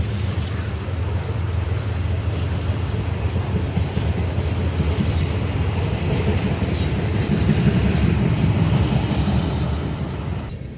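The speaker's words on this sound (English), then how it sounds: "the first train of the day, a CSX Manifest train" A long CSX manifest freight train, led by SD70MAC and ES40DC locomotives, rumbles steadily past nearby, with continuous wheel noise, faint clickety-clack and occasional high squeals, growing slightly louder toward the end.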